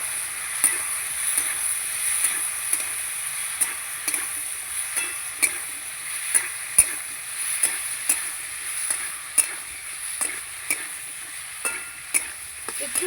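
A fish head and greens curry with turmeric and salt being stirred in a pan, a spoon scraping in a steady series of sharp clicks over a soft, constant sizzle, close by and with no talking.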